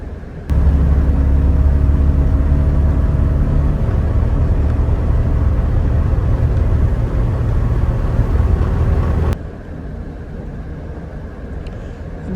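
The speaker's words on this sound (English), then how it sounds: "it's a nice exhaust note on this anyway" A 1977 Alfa Romeo Alfetta 2.0 GTV on the move, its engine and exhaust giving a loud, steady droning note that cuts off sharply near the end, leaving quieter road and wind noise.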